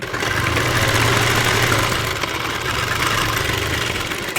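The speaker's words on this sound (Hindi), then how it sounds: "उसके बाद हम यहाँ से एक पैर की सिलाई लगा लेंगे इस पर।" Electric sewing machine running steadily while stitching a fabric sleeve, a continuous close motor whir with a low hum throughout, no talking.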